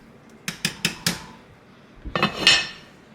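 A metal lid goes back onto a pot of chicken and seafood gumbo, giving four quick clanking knocks, then a brief pause and a clustered rattle and scrape as it settles, close and fairly loud.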